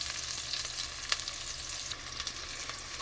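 Tomatoes frying in a pan for peanut butter sauce give a steady, close sizzle with faint crackles throughout, no voices present.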